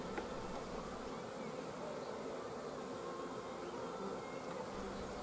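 Honey bees buzz around a hive in a dense, steady drone that stays constant throughout, many insects humming close by.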